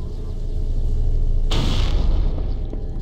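A sudden heavy blast in the Halo: Combat Evolved video game bursts in about halfway through, cutting sharply above a steady rumbling game background and then fading slowly.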